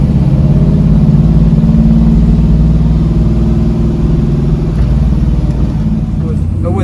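A 1970 Plymouth Road Runner engine warming up, a loud steady low rumble throughout, with a slight dip near the end.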